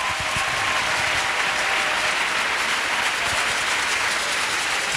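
A church congregation claps together for Jesus during a worship service, producing steady, loud, dense applause that fills the whole stretch without letting up.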